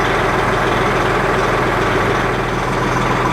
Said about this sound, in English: We'll let the truck run for a while.